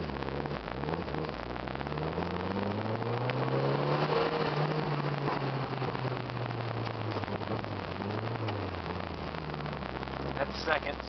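Nissan 200SX SE-R with a GTi-R engine revving hard and accelerating in drizzle in a small parking lot, wheels spinning; a steady, loud engine drone with rising and falling pitch sweeps throughout, close to the microphone.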